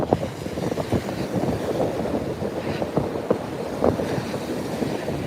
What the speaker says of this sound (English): I am literally leaning forward to walk through the wind.